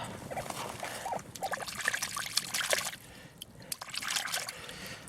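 Water is poured to rinse a Soviet 3-kopeck coin dug up outdoors, a close, uneven trickle and splash that comes in bursts and fades between them.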